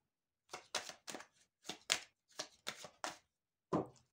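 Tarot cards being shuffled and cut by hand: a series of about nine short, crisp papery slaps in an uneven rhythm, close and fairly quiet, with no voices.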